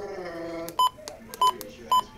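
Three short electronic beeps from a Midland weather radio, evenly spaced about half a second apart, clear and close with some faint handling noise in between.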